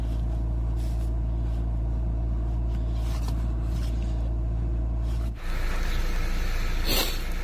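A car engine with a random misfire, fitted with Autolite spark plugs, runs steadily with a deep low rumble for about five seconds, then cuts off into a brighter, noisier background.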